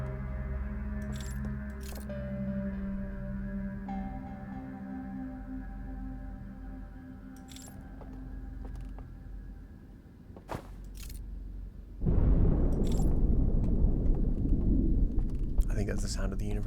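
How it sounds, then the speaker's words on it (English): A deep, droning horn in the space exploration game Outer Wilds signals the end of the universe, holding low sustained tones under faint clicks before a loud rumbling surge swells in. "Is that horn the sound of the universe ending?"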